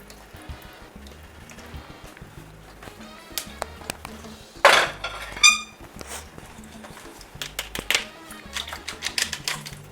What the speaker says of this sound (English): So we're gonna put a colander here. We're just gonna strain it.